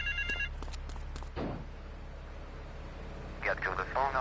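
A telephone rings in the video game GTA 3, with short repeated electronic ring bursts near the start and again at the end, over steady background game sound and radio.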